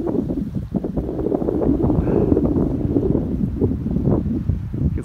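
Strong gusty wind at Big Bear Lake, California, before a winter storm, buffets the microphone with a loud, continuous low roar, rising and falling without a break.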